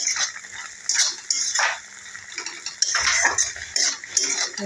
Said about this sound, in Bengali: এই অনবরত নাড়াচাড়া দিয়ে রান্না করে নিতে হবে।